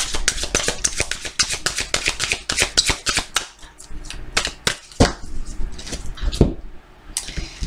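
Tarot cards are shuffled in rapid riffling bursts with crisp flutters and taps, then cut, close and fairly loud, ending in a few scattered card slaps.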